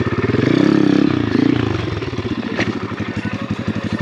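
A budget Amazon dirt bike engine revs hard and close during a wheelie attempt, surging loudly then settling into a rapid, pulsing putter with a brief sharp clatter near the end.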